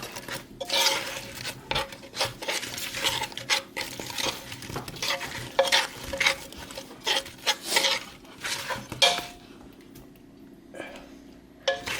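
Spoon scraping and clinking around a pot or pan while cinnamon and nutmeg are mixed into a dish, a busy run of close stirring scrapes with soft sizzling beneath, fading quieter near the end.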